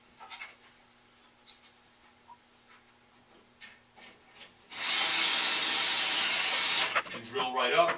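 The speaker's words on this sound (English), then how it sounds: "And drill right up, and it's secure to your ceiling" A power drill whirs steadily for about two seconds, close and loud, driving a tech screw up into a ceiling to fix the end cap of a cubicle curtain track. Quiet handling clicks and taps come before it, and a few soft knocks follow.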